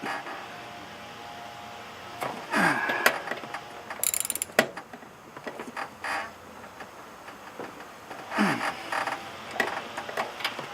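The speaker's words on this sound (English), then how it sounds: "It's a pretty short-handled ratchet, so we'll see if I can get enough leverage on it." A short-handled ratchet clicks in quick bursts while being worked on a Subaru Forester during a PCV valve replacement, with scattered creaks and metallic knocks between the close, fairly quiet runs of pawl clicks.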